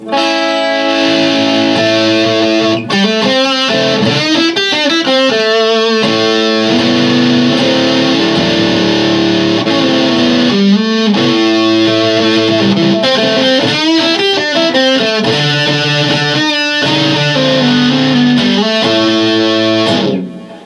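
Loud, crunchy overdriven electric guitar plays chords and riffs continuously, thick and saturated with sustained distortion.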